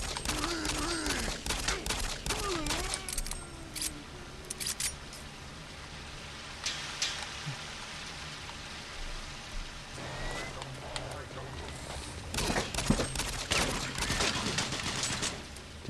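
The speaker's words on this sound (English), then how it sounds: "Yep, assault rifle." Assault rifle fire in the video game Doom 3: scattered bursts of automatic shots, loudest near the start and again in a dense cluster late on, with a voice talking over parts of it.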